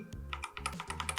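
A Bloody S98 mechanical gaming keyboard clacks in a quick run of soft, muted key presses, including the space bar, close and quiet with a damped, non-clicky thud.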